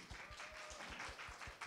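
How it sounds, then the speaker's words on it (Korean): Faint rhythmic clapping from a forum audience in a hall, welcoming a library team leader to the stage, steady and even for under two seconds. "큰 박수로 맞이해 주시기 바랍니다."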